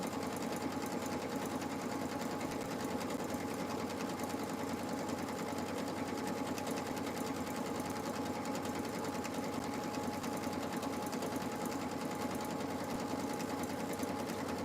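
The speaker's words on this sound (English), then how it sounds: "I'm going to sew both of these sacks right now" A sewing machine runs continuously while stitching fabric sacks, giving a close, steady mechanical whir and rapid needle chatter without pause for the whole stretch.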